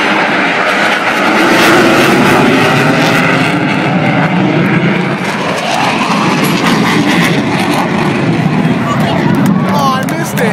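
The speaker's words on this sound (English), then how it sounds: "On the left wing, the 1957 A4 Skyhawk, the 1962 T2 Buckeye, and out there on the right wing, today's United States Navy Super Hornet." A Navy formation flyover at an airshow, with an F4U Corsair, an A4 Skyhawk, a T2 Buckeye and a modern Super Hornet passing overhead, gives a loud, sustained roar of jet and propeller engines, with a commentator talking over it throughout.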